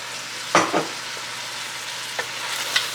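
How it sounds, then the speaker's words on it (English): A spoon stirs tomatoes, carrots and lima beans in a stew pot for brown stew chicken, giving a couple of close scraping swishes over a soft steady sizzle, with no talking. "I'm gonna mix this up well."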